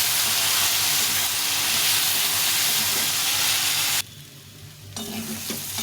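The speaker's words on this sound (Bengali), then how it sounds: "লবণ, হলুদ দিয়ে মশলা জলটা দিয়ে ভালো কষে নেব।" Potato and pointed gourd curry with salt, turmeric and spice water fries and is stirred in a pan, a loud, steady sizzle that cuts out abruptly, then returns softer.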